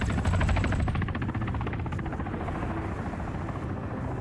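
A helicopter in the military video game Arma 3 flies steadily and loudly, with a constant rotor thrum and whine that hold through the whole stretch, no talk over it.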